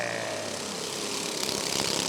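American Super Cup race cars roar away from the green flag at Rockford Speedway, a dense, steady blend of several engines at full throttle, loud and continuous with no talk over it.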